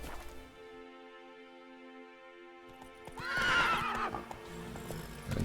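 A horse in The Witcher 3 gives a long, loud whinny, followed by a rapid burst of hooves and a snort as it breaks into a gallop, with no voices.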